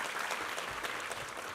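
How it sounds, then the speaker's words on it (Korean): A church congregation claps together in steady, fairly faint applause during Sunday worship, filling the whole moment, with no talking over it. "우리 하나님께 감사와 영광의 박수 올려드리겠습니다."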